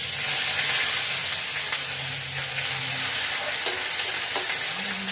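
Panch phoron, dried red chili and bay leaf frying in hot oil, giving a steady close sizzle with an occasional stir or clink of a utensil.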